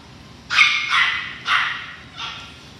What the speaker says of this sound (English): another litter of Pomeranian puppies, and it just doesn't get any cuter than this